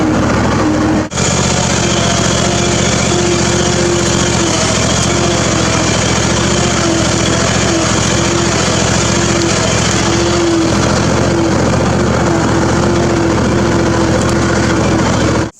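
Zero-turn mower engine running steadily while driving across a field, a constant loud drone with a faint whine, close and uninterrupted for the whole stretch with no talking.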